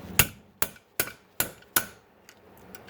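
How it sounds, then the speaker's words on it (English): A hammer taps a breather vent into a cast-iron Velvet Drive CR-2 transmission housing: five sharp, close metallic knocks at an even pace, followed by a few fainter light ticks. "and then using my hammer"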